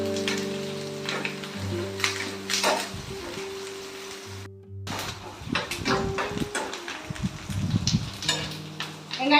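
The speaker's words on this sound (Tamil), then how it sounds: "போட்டு அப்படியே வதக்கிடுவோம்." Onions and curry leaves sauté in a pan, with a soft continuous sizzle broken by scraping stir strokes, while a steady low tonal hum runs underneath throughout.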